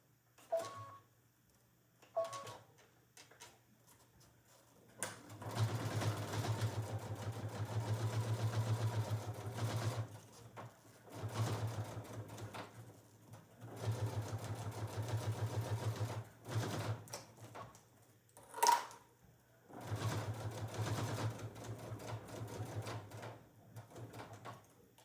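A sewing machine runs utility stitches through a quilted oven mitt, several separate bursts of close, steady mechanical whirring broken by short quiet pauses and a few small clicks.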